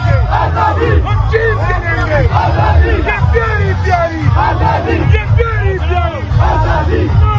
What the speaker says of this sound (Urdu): آزادی کے جو نعرے ہیں وہ لگائے جا رہے ہیں جی۔